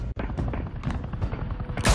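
Gunshots in the Batman Telltale video game, a series of loud shots and booming impacts across a dense action scene, ending with a sharp, bright blast.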